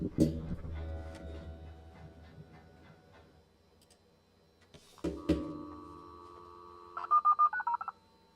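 A dial-up modem goes off-hook and dials a phone number: a thump and dial tone, then a second pickup and tone, ending in a quick run of close touch-tone dialing beeps.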